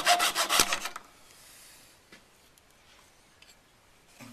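Deer jaw bone being carved for a firesteel handle: a burst of loud rasping strokes at the start, then quieter scraping and faint ticks in a hushed setting.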